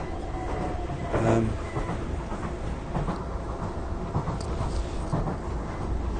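A train rumbles steadily along the rails, with faint rhythmic clacks and rattles over a constant low roar, no voices.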